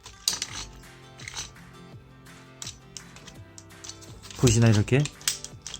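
Clicking ratchet of the wrist joint on an X-Bomber toy robot as it rotates, a run of quick plastic clicks heard close up beneath a man's speech.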